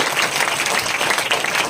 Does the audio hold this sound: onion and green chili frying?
no